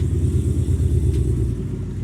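A deep, throaty engine of an older SRT muscle car idles with a loud, lumpy burble, steady and close for a couple of seconds.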